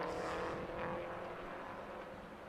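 Touring cars pull away together at a green-flag restart in the French FFSA touring car championship at Nogaro, a continuous broad engine roar at steady moderate loudness with no voices.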